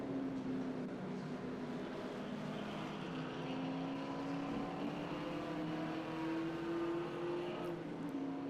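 Vintage race cars, including a Mazda RX-7, a Ginetta and a big-block Chevy Camaro Z28, roar around Indianapolis Motor Speedway in a sustained engine drone whose pitch rises gradually as they pass at a distance.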